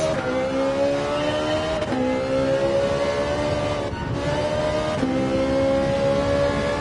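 A Ferrari FX10 race car in Gran Turismo 7 revs hard through its gears. Each shift cuts the engine briefly before the pitch climbs again, loud and close, with no voices.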